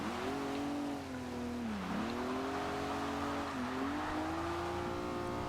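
Car engine droning steadily while drifting a low-power budget build in Forza Horizon 2, a sustained close tone that dips and rises in pitch with the slide, no voices.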